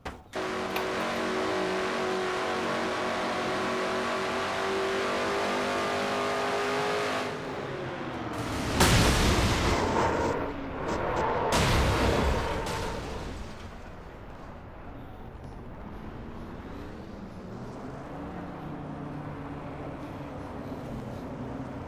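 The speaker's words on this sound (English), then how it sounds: "So that's what it's like to be in a crash at Dover." A stock car race at Dover in a racing video game: a steady engine drone gives way to loud, sharp crash impacts in the middle, then engines drone and rev again, with no talking.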